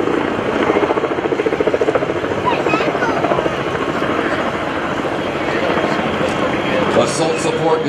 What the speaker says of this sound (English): The Sea Knights are fully instrumented, twin-engine tandem rotor helicopters.